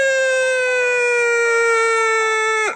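A voice imitating an ambulance siren, a steady, loud, close wailing tone with rich harmonics held for nearly three seconds before cutting off abruptly.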